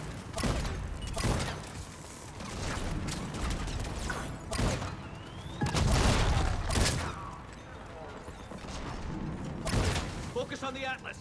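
Heavy cannons fire in Mass Effect 3, repeated booming blasts and mechanical clanks in an intense battle soundscape, with voices talking over the action.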